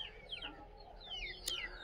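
Hens on a farm giving a few soft clucks and short calls, faint and somewhat distant against a quiet background, with no voices.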